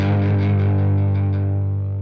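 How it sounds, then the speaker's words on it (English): Electric guitar through a Boss OS-2 overdrive/distortion pedal with tone and drive turned up, a single sustained distorted chord ringing out loud and close, slowly fading without other sounds. "that bright cutting distortion sound of something much more similar to a DS2"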